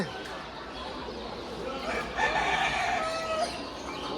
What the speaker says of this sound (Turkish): tavuklarımız var.